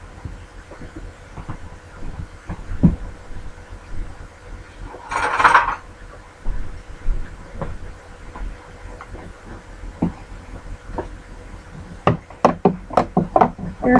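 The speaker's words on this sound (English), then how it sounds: "Let me get a spoon and stir it and see what we have." A spoon stirring apple and cucumber juice in a glass or jug, soft irregular knocks and clinks, ending in a quick run of sharper taps against the container.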